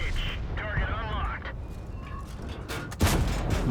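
Incoming artillery fire in World of Tanks while driving a VK 45.03 heavy tank: a rumbling engine bed, an earlier whine, then a sudden heavy impact blast near the end, with game voice cues in places.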